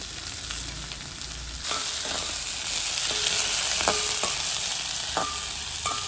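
Fennel seeds, onion and dried red chilies frying in a pan of hot oil, with a steady close sizzle that swells louder partway through, over a low background hum and scattered clicks.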